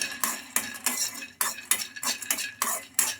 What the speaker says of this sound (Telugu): పల్లీలను బాగా ఫ్రై చేసుకోవాలి